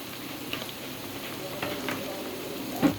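Ginger and garlic paste frying in a pan for prawn bhuna gives a faint, steady low sizzle with a few light stirring clicks.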